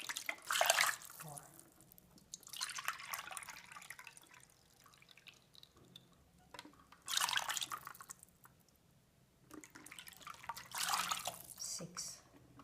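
Measured cups of water are poured into a cooking pot with chicken and a bone, giving several separate splashing pours with quiet pauses between them, faint and close.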